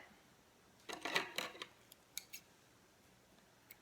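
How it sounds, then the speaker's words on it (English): Scissors snipping knitting yarn, a short cluster of two or three close metallic cuts followed by a couple of quieter clicks in an otherwise near-silent room. "So once you've done that, then you snip."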